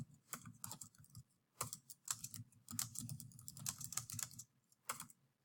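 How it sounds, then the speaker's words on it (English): Someone types a caption on a computer keyboard, quick close clicking keystrokes in irregular bursts with short pauses, quiet and without talk. "So you could type in, one day Bob was sitting on a dock."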